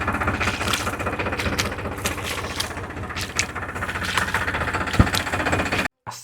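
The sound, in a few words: tractor running in autopilot mode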